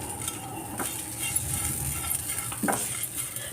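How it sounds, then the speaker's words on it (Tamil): Curry leaves and salt roasting in oil, a steady close sizzle with a couple of spoon scrapes and light clinks against the pan, no talking. "இந்த கருவேப்பிலோட இந்த சால்ட்டு போடும்போது கொஞ்சம் சீக்கிரம் வந்து கருவேப்பிலை கருகாமல் நல்லா வறுபடும்"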